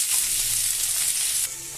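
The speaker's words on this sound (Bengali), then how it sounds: "তেলটা গরম হয়ে গেছে, আমি এখানে আদা রসুনের কুচিটা দিয়ে দিলাম।" Chopped ginger and garlic hit hot oil mixed with a little butter, giving a loud, dense, close sizzle that holds steady and then drops slightly at the end.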